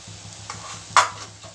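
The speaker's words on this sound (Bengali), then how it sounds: "তাই নাচোস ভাজা হচ্ছে, বেশ কয়েকটা ভেজেছে আর কয়েকটা ভাজছে" Nachos frying in hot oil with a soft bubbling sizzle and a low rhythmic hum beneath, one sharp scrape or clink near the middle, close by and brief.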